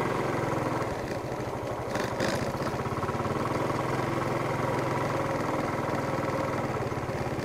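Several motorbikes idle steadily at a staff motorbike parking spot near a fishing village on Trí Nguyên island, Nha Trang, with a low, continuous engine rumble that holds throughout and no speech.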